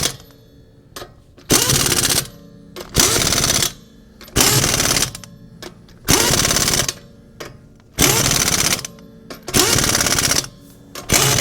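An air impact wrench powered by a Fortress 26 gallon air compressor tightens lug nuts in loud, close rattling bursts of hammering, six roughly evenly spaced bursts of about a second each separated by short pauses.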